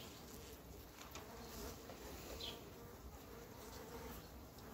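Honey bees buzzing steadily around a hive being prepared for winter, a faint, continuous, close-up drone.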